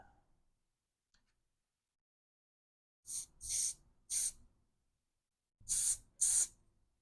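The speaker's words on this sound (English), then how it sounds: "add some spray adhesive to the end so it doesn't come unfrayed" Quiet at first, then several short hissing bursts of an aerosol spray adhesive can, a quick group of three followed by two more after a pause.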